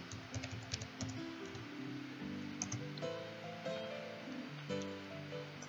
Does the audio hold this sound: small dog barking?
no